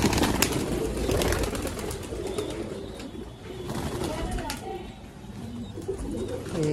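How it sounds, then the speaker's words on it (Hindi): Freshly released pigeons coo and flap about near their loft, with sharp wing claps and rustling over a steady bed of cooing, while someone talks intermittently. "देख सकते हो, सारे कबूतर खोल दिए।"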